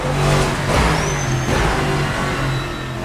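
Lexus GT3 race car engine in the Assetto Corsa sim, warming up at Imola just before sunset, a loud steady drone with rising revs and a thin high whine running through it.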